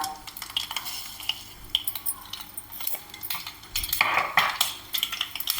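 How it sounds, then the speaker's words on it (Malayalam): Two spoonfuls of mustard seeds pop in heated sesame oil (nallenna) in a pan while upma is being made. Sharp, irregular crackles and spits rise over a steady low sizzle, close and fairly quiet, with no talking. "കടുകൊന്ന് പൊട്ടട്ടെ"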